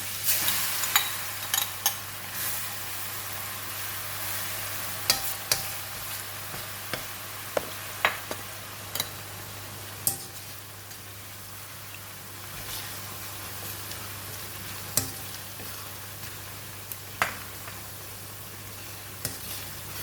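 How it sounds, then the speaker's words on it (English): Garlic frying in very hot oil in a pan while making garlic oil and crispy fried garlic: a steady close sizzle with scattered sharp pops and occasional stirring clicks, no talking. "we have a very hot oil here, so I'm going to put in the garlic"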